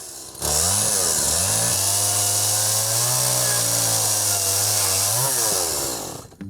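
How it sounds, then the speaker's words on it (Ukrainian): A chainsaw runs steadily at high revs, its harsh buzzing engine close and loud, with slight pitch dips as it bites before cutting off near the end. "До того ж, вона майстерно орудує бензопилою."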